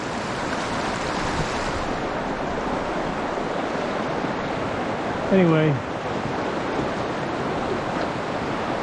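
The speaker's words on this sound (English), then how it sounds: "this has always been a tough creek to wade up through here" Steady broadband rush of a stream flowing around a wader in a creek, continuous and close, with a brief spoken word partway through.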